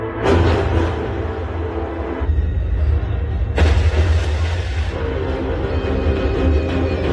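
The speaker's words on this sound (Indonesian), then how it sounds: "kantor pemerintah tersebut meledak dengan dahsyat" A government office building explodes: deep, rumbling explosive booms roll on continuously, with sharp blasts bursting out near the start and again midway.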